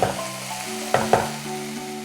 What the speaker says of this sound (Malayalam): ടൊമാറ്റോ നല്ലപോലെ ഉടഞ്ഞ് ഈ സവാളയോടൊപ്പം ചേർന്ന് വരണം. അതുവരെ നമ്മളിത് വഴറ്റിയെടുക്കണം.